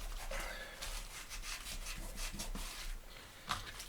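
Glue being rubbed into the binding of a Bible under repair, a soft continuous rubbing and scraping by hand, close and fairly quiet, with a small knock near the end.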